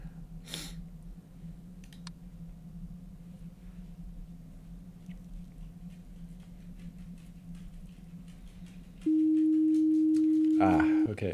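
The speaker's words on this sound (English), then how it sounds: "Okay, it was distortion." Camera distortion effect in the Observation Duty 5 horror game: low electrical hum and faint crackle, then a sudden loud steady sine-like tone that holds for about two seconds before a burst of static noise.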